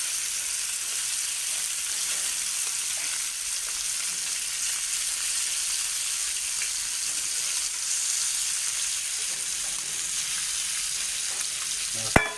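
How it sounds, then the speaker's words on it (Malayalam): Fish sizzles and fries steadily in a hot pan, a dense continuous crackle at close range with no talk, ending in a brief sharp clatter. "നമുക്ക് കിട്ടിയ മീൻ എന്തായാലും കുറച്ചുള്ളെങ്കിലും കൂടിയിട്ട് അത് പൊരിച്ചെടുക്കാനുള്ള പരിപാടിയാണ്"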